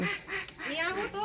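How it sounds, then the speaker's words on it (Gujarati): A duck quacks several times in quick succession, close and fairly clear, with a voice briefly mixed in. "બતક"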